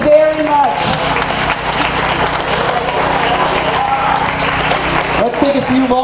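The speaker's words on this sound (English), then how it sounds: "give yourself a big round of applause" A crowd applauding with sustained clapping, mixed with cheers and some voices, moderately loud and continuous throughout, at a Juvenile Diabetes Research Foundation charity ride event.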